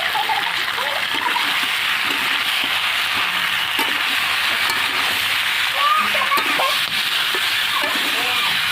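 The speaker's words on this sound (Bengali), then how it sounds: "আলু দিয়ে আমি ভালো করে একটু কষিয়ে নেব।" Potatoes fry with salt and turmeric in a pan, giving a loud, steady sizzle close by with faint splattering.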